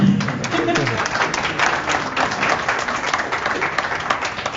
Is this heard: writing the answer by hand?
no